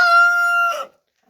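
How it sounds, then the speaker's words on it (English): A rooster crows once, loud and close, a sustained harmonic call that trails off within a second and leaves silence. "so those are my 3 roosters that I have"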